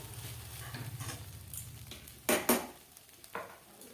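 Metal spatula scraping and clinking against a pan while stirring chirer polao (flattened rice pilaf with vegetables), a low bubbling rumble at first, then a few sharp loud scrapes near the end.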